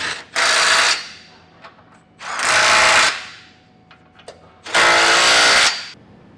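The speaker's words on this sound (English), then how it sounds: "you can come back with a 22mm socket and snug it all down" A 22mm socket wrench snugs down trailer hitch hardware on a 2020 Honda Passport with three loud, close bursts of rapid ratcheting, separated by short pauses.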